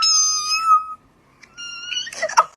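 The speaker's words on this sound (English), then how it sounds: "The cat's meow is so high-pitched" A cat gives two high-pitched, drawn-out meows, loud and close, separated by a brief pause, with some rustling at the end.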